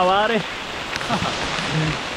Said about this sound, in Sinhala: අවාරේ විදිහටම වහින්න පටන් ගත්තා